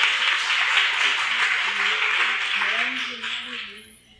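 An audience applauds at a panel on 1980s life stories, a dense, steady wash of clapping that holds for several seconds and then fades out, with a voice faintly underneath.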